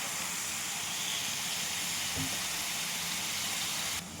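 Water poured into a pan of ridge gourd and fried potatoes sets off a loud, continuous hissing sizzle that stays steady throughout, with no voices.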